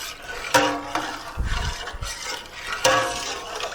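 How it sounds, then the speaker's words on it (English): Spoon scraping and stirring flour across the bottom of a pot for stovetop pot roast, a few rasping strokes with brief bursts and a low thump midway, close and moderately loud, no talking. "I want to make sure that all the flour has been stirred off the bottom."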